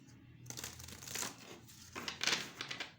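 A deck of tarot cards taken out of its packaging, with close crinkling and rustling of paper or plastic in a few bursts, fairly loud, no talking.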